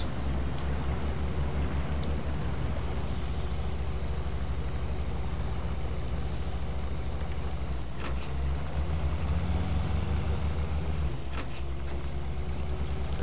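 An F-B83 truck, a Ford Bronco-style off-roader in the Snowrunner game with an advanced engine and off-road gearbox, drones with a steady low engine rumble that shifts pitch slightly as it climbs over the trail.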